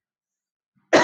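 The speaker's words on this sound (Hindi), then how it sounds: "ये खांस रहा है" A single close, loud cough breaks abruptly out of silence near the end and is cut off.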